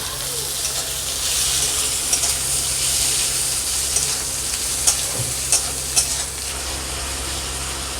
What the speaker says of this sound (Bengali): দু মিনিট আমি এটা ভেজে নিয়েছি, টমেটোগুলো গলে গেছে।